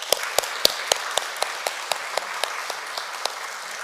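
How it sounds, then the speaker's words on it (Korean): A church congregation applauds together after a minister's year-end thanks, a steady patter of many hands clapping at moderate volume with a few sharper claps standing out, fading slightly toward the end. "박수 한번."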